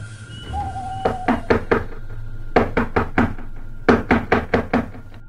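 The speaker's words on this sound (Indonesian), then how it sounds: "Keduanya terbangun oleh suara ketukan di kaca jendela kamar." Knuckles rap on the glass of a bedroom window in three quick bursts of four to five sharp knocks, close and clear over a low steady hum.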